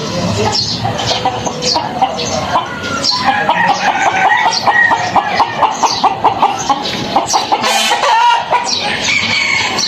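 A loud, busy chorus of birds in a hotel park, mostly chickens clucking and crowing, calling over one another continuously at close range.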